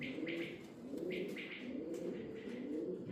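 Pigeons, mostly hens, cooing together in a loft, a steady overlapping chorus of low rolling coos close by, with occasional brighter chirps above and no talking.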